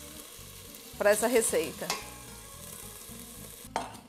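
Beef fries in a pot for boeuf bourguignon with a steady sizzle and bursts of scraping and stirring, close by, while a voice speaks briefly over it.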